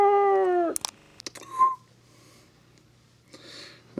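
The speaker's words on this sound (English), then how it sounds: "You might hear a cat meowing, but ignore it." A cat gives one clear, loud, drawn-out meow at the start, followed by quieter household rustles and a faint high chirp in an otherwise still room at night.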